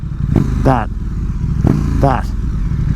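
A motorcycle engine blips twice as the rider downshifts, each a quick rising rev over a steady low idle rumble. A person talks during the clip.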